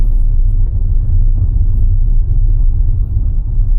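Car driving through town in Korat, Thailand, during Songkran, with a steady low engine and road rumble heard from inside the cabin, loud and continuous, with no talk.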